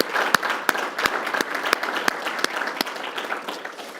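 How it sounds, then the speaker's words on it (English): Lecture audience at a Hesburgh Lecture Series event applauds for a Public Policy Institute, a room of hands clapping with a few sharp individual claps standing out, steady then thinning. "please give the Public Policy Institute a round of applause"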